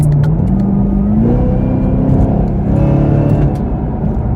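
A 2021 Camaro ZL1 on the interstate gives a loud, steady engine drone and exhaust rumble, with the pitch climbing as it revs up, then holding, then easing off a little across the clip, close up and with no one talking.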